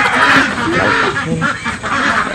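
Ducks at a duck farm quacking loudly and continuously close by, several birds calling over one another in a noisy flock.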